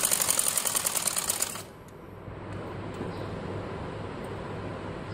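A sewing machine stitching prepared fabric strips onto a trouser hem, fast rhythmic mechanical whirring for about a second and a half, then stopping, leaving quiet room noise.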